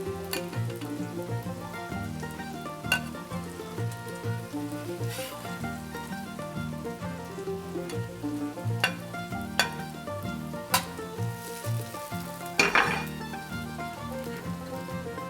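Corned beef hash frying in a roomy pan, a continuous close sizzle with scraping and clinking as it is stirred and pushed around, steady and loud throughout.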